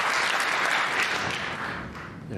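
A snooker crowd at the UK Championship applauds steadily as a player builds a maximum 147 break past a century, a loud, dense wash of clapping that eases slightly toward the end.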